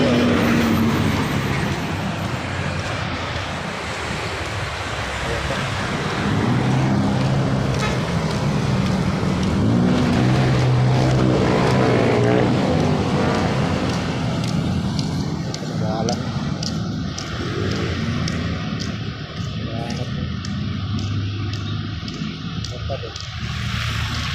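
Dense road traffic on a busy street, a steady loud rumble of cars and buses that never lets up, heard close by with a person talking over it.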